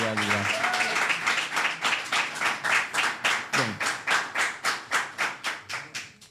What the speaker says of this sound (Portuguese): Ofereço mais 30 segundos para concluírem os aplausos